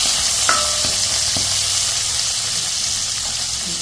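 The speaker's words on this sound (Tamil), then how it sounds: "வெங்காயம் நல்லா வதங்கிட்டுது" Onions sizzle steadily in a hot pan, a close, continuous frying hiss broken by a few light clinks and scrapes of stirring.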